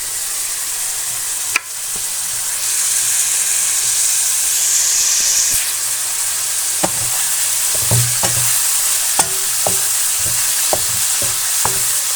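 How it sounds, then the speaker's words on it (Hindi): Boiled potatoes and capsicum stir-frying in a pan for a potato-capsicum sabzi: a steady close sizzle and hiss with a run of sharp spatula scrapes and clicks toward the end, no voices. "बॉयल्ड आलू आप थोड़ी देर के लिए भून लें"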